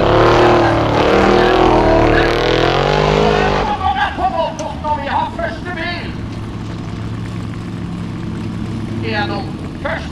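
A Formula Offroad race car at Skien, Norway roars past close and loud, its engine note climbing then cutting off after a few seconds, followed by a commentator talking over lighter engine noise in the distance.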